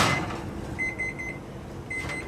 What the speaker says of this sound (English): The oven timer goes off, and LaRue takes out the pan.